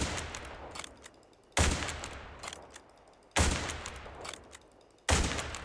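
Rifle gunfire in a video game: three loud, sharp bursts spaced about two seconds apart, each decaying into a reverberant tail, with no talk.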